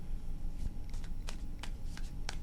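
Tarot cards being shuffled by hand, a few quick riffling bursts spaced about half a second apart, close and soft over a low background rumble.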